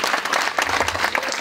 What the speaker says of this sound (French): On applaudit très fort le discours du grand frère Martin Baradji